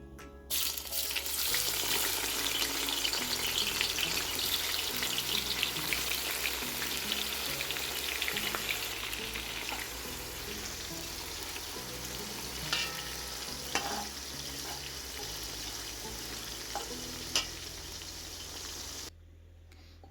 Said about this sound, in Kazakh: Қызып тұрған майымызға пиязымыздың жартысын салып, жақсылап қып-қызыл етіп қуырып аламыз.